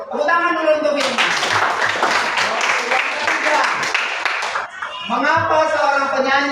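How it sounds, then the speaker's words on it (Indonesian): An audience claps for Firman during a singing exam, a burst of dense hand clapping lasting several seconds, with a voice speaking just before and resuming right after it dies down. "Tepuk tangan dulu untuk Firman."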